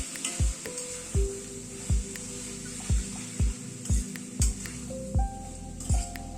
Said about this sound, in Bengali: দইটা দিয়ে ভালো করে মিশিয়ে দিতে হবে